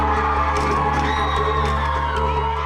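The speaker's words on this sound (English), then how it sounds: "we got a crowd of angry people yelling at us to put the camera away" Crowd of angry people yelling outside a hotel, a dense continuous roar of shouting voices with individual yells poking through, loud and close, over a low steady hum.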